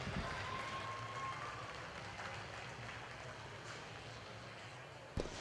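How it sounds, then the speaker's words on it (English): Spectators at a 4-H and FFA market goat show at a county fair give a distant, soft round of applause, spread thinly over a noisy arena background, ending with a sharp knock. "Let's give them a round of applause."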